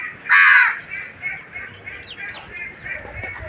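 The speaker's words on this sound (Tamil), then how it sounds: "ஒரே காக்கா சவுண்டாக இருக்குது" A crow gives one loud, close caw near the start, followed by fainter bird calls scattered over a low background murmur.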